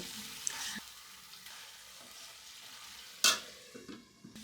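A spoon stirs egg curry in a pan while cumin powder is mixed in, giving quiet scraping and soft sizzling with a sharper scrape near the end.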